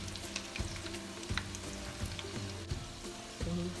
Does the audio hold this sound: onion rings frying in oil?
yes